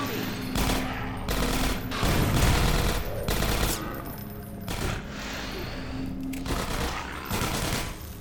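Rapid automatic gunfire rattles in Half-Life 2 Episode 1 as zombies are shot, dense loud bursts repeating in quick succession with short pauses between volleys.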